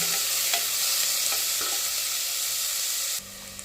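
Onions frying in a pan until lightly golden for a Punjabi potato-and-eggplant gravy dish, giving a steady, dense sizzle with a few faint stirring clicks; the sizzle drops in level near the end.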